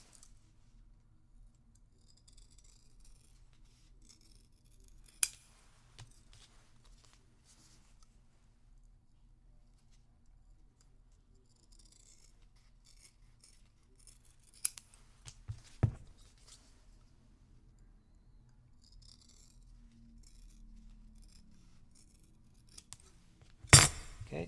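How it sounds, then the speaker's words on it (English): Scissors snip through used mesh paper in a quiet room, a few sharp isolated cuts spaced far apart against near silence. "I really like these mesh papers because once you've used up that little piece of it, you just cut it and then it's brand new."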